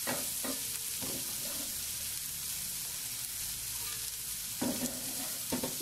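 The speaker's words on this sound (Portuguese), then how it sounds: "já vou colocar meu alho poró" Chopped leek sizzling in hot oil in a pan, with a steady frying hiss broken by several scraping stirs of a utensil, close and fairly loud, no voices.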